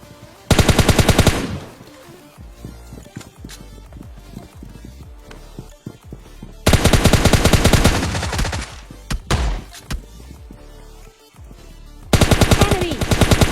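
Rapid automatic gunfire from AK and M4 rifles in the PUBG Lite mobile shooter, in three loud sustained bursts separated by quieter stretches of scattered game sounds and footsteps.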